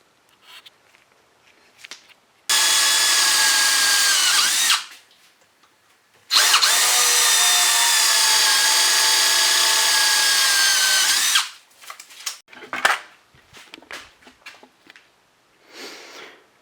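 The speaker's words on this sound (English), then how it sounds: "Just drill enough to get this top cover off." Two long bursts of a power drill whining loudly at close range, drilling into a metal top cover on a 1992 Toyota Hilux centre bearing carrier, separated by a short pause, followed by clattering handling noises.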